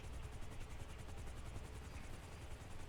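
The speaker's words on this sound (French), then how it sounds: "Il y a des hélicos en haut" Helicopters flying overhead in the GTA video game, a continuous chopping rotor drone with a steady, fast pulse and heavy low rumble that holds at an even level throughout.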